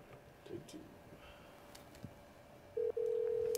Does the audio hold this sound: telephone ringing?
yes